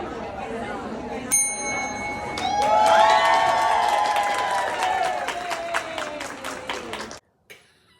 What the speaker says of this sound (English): I hope you enjoyed me ringing the bell.